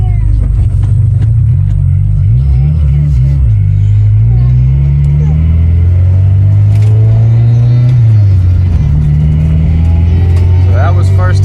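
A car fitted with a K-tuned B/D-series shifter drives and changes gears, its engine droning loudly throughout with pitch climbing and dropping at each shift, close up inside the cabin.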